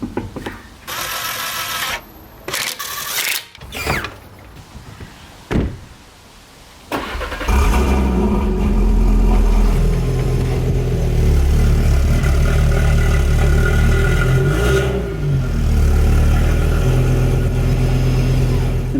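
An Audi RS3 car's engine starts after some clicks and handling noises, then idles loudly and steadily as the car creeps forward, close by with no speech.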